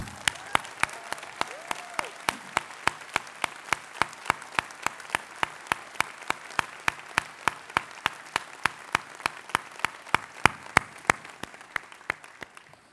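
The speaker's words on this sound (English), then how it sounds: "Please join me now in applauding your parents." School ceremony audience applauding the parents, with a broad crowd applause bed under loud, evenly spaced sharp claps that repeat roughly three times a second, nearby and prominent throughout.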